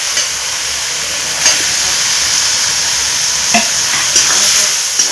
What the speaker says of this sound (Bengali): দিয়ে একটু নাড়াচাড়া করে ধুয়ে রাখা চিকেনগুলো দিয়ে দেব।